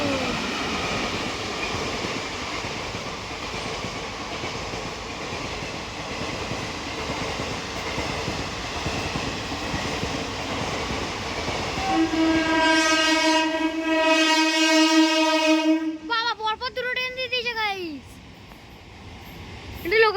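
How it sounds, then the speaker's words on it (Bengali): A train rolls past with a continuous loud rumble and clatter, then sounds two long, blaring horn blasts close by before the noise drops away, with voices nearby. "ভাই যখন ট্রেন আসছে"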